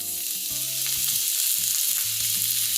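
Shrimp pan frying, a bright continuous sizzle of hot oil up close with faint clinks of pan and utensil underneath and no talking.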